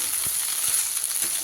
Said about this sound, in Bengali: তো কিছুক্ষণ এইভাবে নাড়াচাড়া দিয়ে তারপরে এর মধ্যে আমি গুড় দিয়ে দেবো